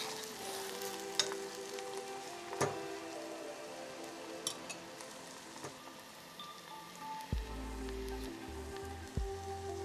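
Onions, garlic and serrano peppers sautéing in a pan, a soft continuous sizzle with scattered crackles and pops and a couple of low knocks from a utensil against the pan.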